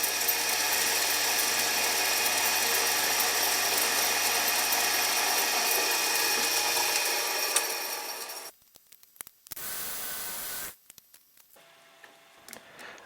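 A bench drill press boring a hole for a homemade touch probe: a loud, steady grinding and whirring drone for about eight seconds, then cutting out, with a brief burst of the motor again before it winds down.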